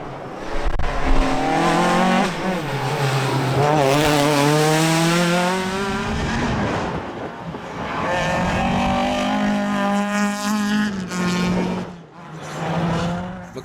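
A Ford Fiesta Rally 2 race car on a rally track, its engine loud and close, revving hard through rising and falling gears with tyre noise, steady and continuous for over ten seconds.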